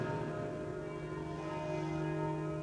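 Angelus church bells ring with a steady, sustained metallic hum of overlapping tones, fairly faint and distant, with no voices.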